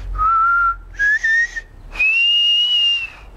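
Someone whistles a short tune of a few sustained, clear notes with brief pauses between them, close and loud, with no talking.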